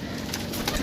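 A pigeon coos briefly, close by, among a group of pigeons offered for sale. One soft, low, rolling coo sounds over background noise.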